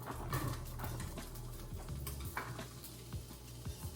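Peppers and onions frying in a pan still greasy from cooking steak, a steady close sizzle with occasional stirring clicks and scrapes.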